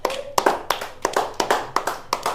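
A small group claps hands together during a children's Ugadi party game, about a dozen quick, close, sharp claps in an uneven rhythm.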